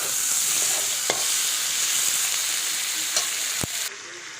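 Potato curry with tomato and salt sizzles in a pan under steady, close frying hiss, with a few sharp scrapes of a spoon stirring through it.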